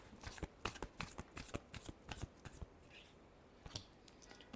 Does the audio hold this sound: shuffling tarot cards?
yes